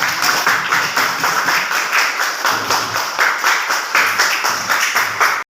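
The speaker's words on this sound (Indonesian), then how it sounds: "Beri tepuk tangan anak-anak" Classroom children clap together in a steady burst of applause, dense and fairly loud, with the pulsing rhythm of many small hands and no voices on top.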